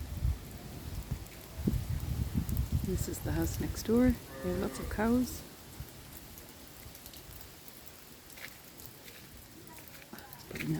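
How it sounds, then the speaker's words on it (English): Rain falls steadily on a farm with cows nearby, a continuous hiss heard under a person talking, then carrying on alone after the talk stops. "We're very happy because the rain has come, finally."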